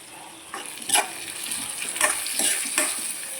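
Tomato pieces dropped into a frying pan for a cashew and drumstick curry, bursts of sizzling and stirring scrapes flaring several times over a continuous hiss, close, without speech.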